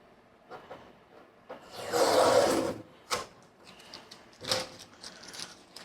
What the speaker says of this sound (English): So I'm going to pull the tape off and then we'll have a look.